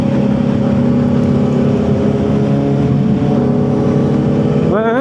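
A car passes on the left along an expressway, its steady engine drone and road rumble constant throughout, with a rising rev near the end; a voice speaks over it.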